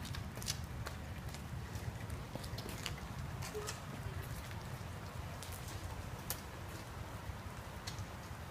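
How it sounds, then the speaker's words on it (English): Steady outdoor rain falls near a garage on a day with patches of blue sky, a continuous close hiss with scattered sharper taps and clicks throughout. "Starting to rain again."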